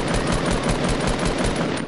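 Rapid machine-gun fire in a squads shooter video game, a loud, continuous stream of close shots with an even, fast rhythm and no talk over it.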